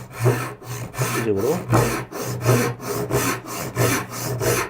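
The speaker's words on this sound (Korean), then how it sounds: "톱을 위에서 아래로 수직으로 내리는 건 기존에 톱질하는 거랑 똑같습니다" A hand saw cuts vertically down through wood for a mitre joint in steady, rhythmic back-and-forth strokes, about ten rasping pulls, close and fairly loud with no talking.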